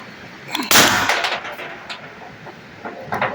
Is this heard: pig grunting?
no